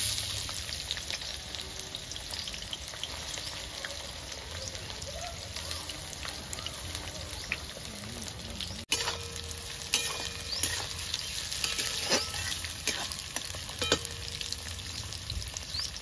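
Onions dropped into hot oil with whole cumin, cinnamon and cardamom for a desi chicken curry, a loud dense sizzle that jumps sharply partway through as they hit the pan, then crackling and spatter continue.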